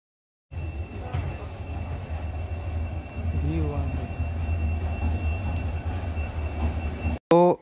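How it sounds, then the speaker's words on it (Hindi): A train rolls into a railway station at Siliguri Junction, a steady loud rumble of wheels and cars building, with brief squeals and a horn-like blast at the end. "ये देखिए आपको दिख रही होगी हमारी ट्रेन आ रही है और बिल्कुल टाइम में है"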